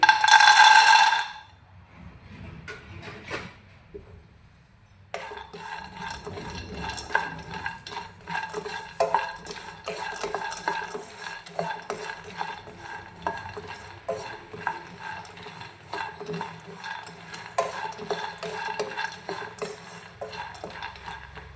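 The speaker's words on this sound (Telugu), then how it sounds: "పల్లీలు ఎప్పుడు మీడియం ఫ్లేమ్లో పెట్టుకుని వేయించుకోవాలండి" Steady scraping and rattling of a spatula stirring dry peanuts in a pan over a medium flame, continuous and close, with no talking; a brief quiet gap near the start.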